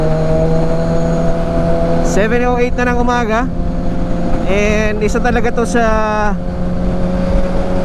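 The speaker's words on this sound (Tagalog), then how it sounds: "itong motor na to, mga expressway legal na motor" A Kawasaki Ninja 1000SX sport motorcycle hums steadily on an expressway ride, with two bursts of rising revs as the rider accelerates, while someone talks over the engine throughout.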